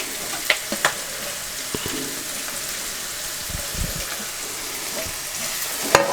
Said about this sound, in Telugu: ఇది ఒక్క నిమిషం నూనెలో ఫ్రై చేసుకొని